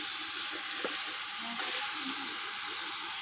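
Garlic paste sizzling in hot oil with whole garam masala, onions and green chillies in a pan, a steady close hiss with faint stirring taps.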